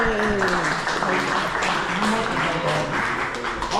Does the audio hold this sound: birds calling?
no